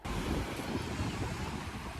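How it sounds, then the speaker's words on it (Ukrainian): Small sea waves wash onto a beach in a continuous, rumbling surf roar, close and fairly loud, with wind buffeting the microphone throughout and no talking. "Так, сьогодні хвилі є. Невеличкі, але є."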